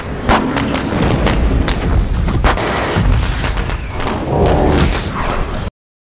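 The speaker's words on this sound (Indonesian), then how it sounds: "melepaskan tembakan dengan pistol suar ke arah peluru-peluru lain yang memicu ledakan cahaya" Flare pistol fired amid other rounds, setting off a bright explosion, on a remote isolated island: loud continuous booming and thudding bursts with repeated sharp cracks for over five seconds, no speech.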